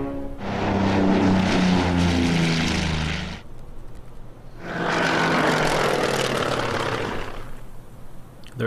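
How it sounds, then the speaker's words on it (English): Propeller aircraft in the Order of Battle video game drone past in two loud passes, a steady buzzing engine hum swelling and fading with a brief lull between them. "Their aircraft are moving around."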